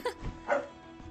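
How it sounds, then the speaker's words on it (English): A pet dog gives two short yipping barks close by indoors, the second slightly drawn out, with quiet background between them. "I'm being told off by my dog."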